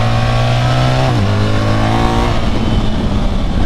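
A 2024 BMW R 1300 GS motorcycle accelerates hard through the gears, its engine drone loud and close, pitch climbing then dropping sharply at each shift, followed by a rough rising rumble.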